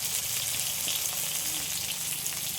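Garlic, tomato and salt fry in a pan with a steady, close sizzle that holds evenly throughout, with no voices over it.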